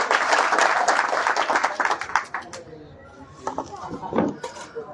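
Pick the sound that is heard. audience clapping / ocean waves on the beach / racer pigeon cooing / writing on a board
audience clapping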